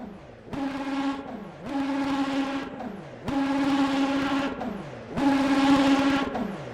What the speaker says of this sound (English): See what it sounds like at a dead stop when we rev it up.